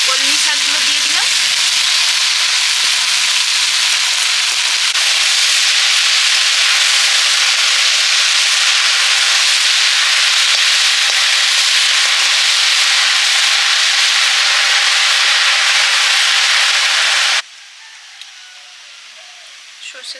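Pumpkin seeds fry in hot oil in a pan with a loud, dense, continuous sizzle and crackle that holds steady close up, then drops away abruptly near the end.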